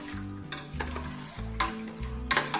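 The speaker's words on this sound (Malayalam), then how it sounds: "എന്നിട്ട് ഇത് നന്നായിട്ട് ഇളക്കുക." Milk, rice and sugar stirred together in a pot for palpayasam, with a spoon scraping and knocking against the pot in several strokes and a low bubbling sizzle underneath, close and alone.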